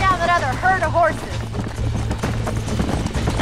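Horse hooves clip-clop at a gallop in the Red Dead Redemption video game, a rhythmic clatter under a voice, with a neigh-like call at the start.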